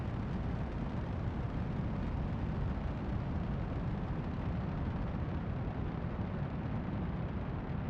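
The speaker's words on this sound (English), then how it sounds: "we're gonna have a booster explosion again" A continuous, dense roar of a rocket booster exploding in the Kerbal Space Program video game, a loud, steady rumble sustained for the whole stretch with no speech over it.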